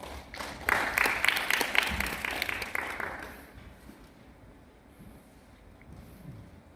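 An audience at a city urban regeneration training opening ceremony applauds with a burst of steady clapping for about three seconds, then it fades into quiet room noise.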